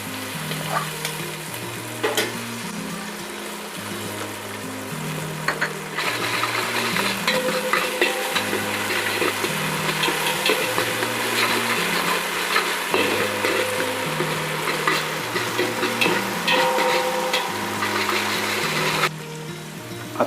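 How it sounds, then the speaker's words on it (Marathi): A mutton rassa masala mixture with green masala and turmeric is sautéed in a pan, producing a continuous loud sizzle with rhythmic scraping stirs from a spatula throughout. "हे मिश्रण चांगलं परतून झालं आहे"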